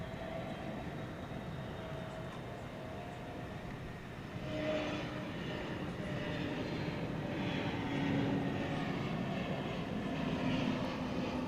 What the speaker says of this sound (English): Got a Frontier flight coming in from Las Vegas, flight 3978, an Airbus A320 Neo.